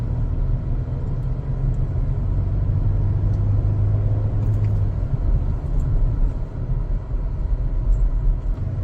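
Steady low road rumble of a 2014 GMC Acadia cruising while bedding in new front brakes, with continuous engine and tyre noise throughout and no talking.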